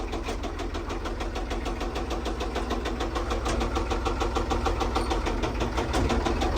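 A Case 1030 tractor's diesel engine runs steadily in low range, a loud, close, rhythmic chugging with even pulses that swells slightly louder toward the end, with no talking.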